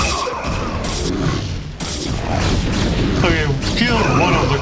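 Cannon destroyed amid battle in StarCraft: Remastered, with booming blasts, crashes and rapid weapon fire from the game stacking densely over a few seconds, loud and busy, while a commentator talks over it.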